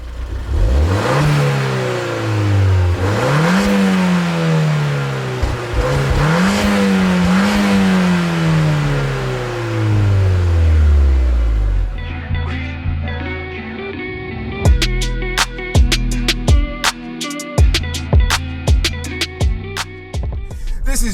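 A Ford Fiesta ST pulls away on the road, its engine revving hard through several rising gear pulls up close, then easing to a lighter cruise with scattered clicks and knocks, and no talk.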